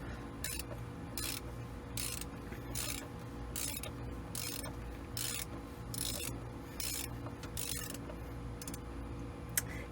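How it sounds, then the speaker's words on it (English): Filter wrench working an oil filter canister loose during an oil change, giving a faint repeated ratcheting, rasping scrape in regular bursts, close by and without talking. "so I'm taking the canister off."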